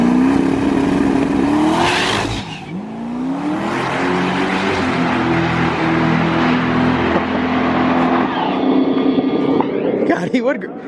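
A drag car nicknamed Cowmaro, running a new torque converter, revs hard on the trans brake and then launches, its engine roaring loud and close with rising pitch sweeps, while people talk and exclaim over it.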